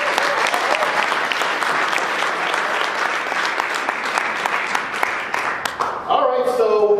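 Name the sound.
audience applauding a presenter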